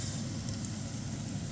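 Onion and garlic sizzle in a frying pan as the base for Bicol express, a steady, dense crackling hiss that holds evenly throughout without pause or voices.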